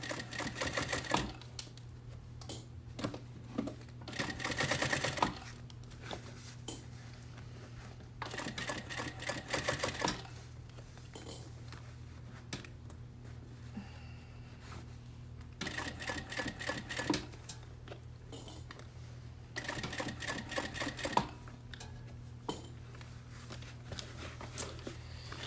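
A sewing machine stitches a seam on a handmade bag in several close bursts of rapid rhythmic needle clatter, separated by quiet pauses with faint handling sounds.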